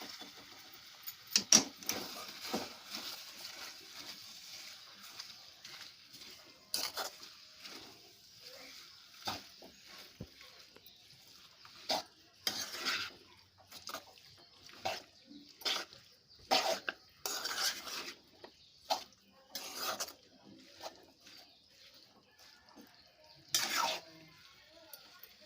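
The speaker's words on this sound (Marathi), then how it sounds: "आता आपण त्याच्यात भाजी घालूया. मिक्स करून घेऊया." Gayvda vegetable being stirred in a pan in a village kitchen for a simple Malvani-style bhaji, with repeated scraping and clinking strokes of a spoon against the pan coming in irregular bursts, close and moderately loud.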